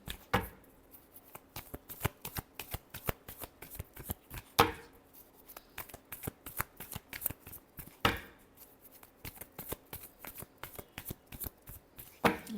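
Tarot cards are shuffled by hand up close in quick crisp riffles, with a few louder snapping bursts standing out from the steady flutter.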